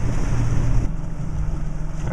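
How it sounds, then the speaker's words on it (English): A fishing boat's outboard engine drones on Lake Norman, a low steady rumble under wind buffeting and splashing water, louder at first then easing off as it throttles down. "I'm gonna cut the engine and then we'll start drifting"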